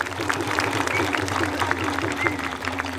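Audience applause at a Rashtriya Adivasi Sanskruti Manch gathering in Surkhai, 2024: a steady, dense wash of clapping that runs through all three seconds, mixed with crowd noise.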